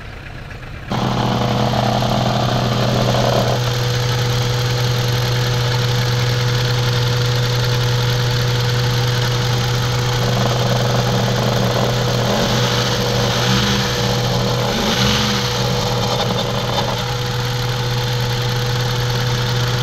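A Mazda 3 1.6 engine, freshly given a top overhaul and misfiring, runs at a steady idle for about twenty seconds, a loud, continuous, even drone that stays close and constant with no talking over it.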